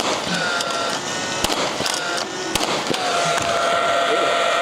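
A nail gun fires nails into new roof beams on a large custom roof build, giving two sharp loud bangs a second apart over steady, noisy outdoor job-site background.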